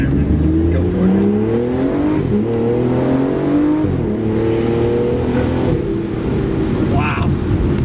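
A 2018 Aston Martin Vanquish S sports car engine revs and accelerates with a loud, close roar that climbs through several gear changes, the pitch rising, dropping briefly and rising again.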